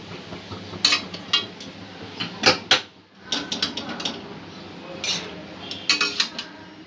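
Street-style egg chowmein tipped from a pan into a serving dish, with repeated metallic clinks and clatters of utensils against cookware, several sharp bursts spread irregularly over a few seconds, close up.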